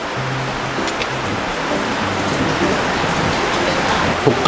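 Heavy rain pours steadily near the sea, a constant hiss of falling drops that stays loud and even, with no voices over it.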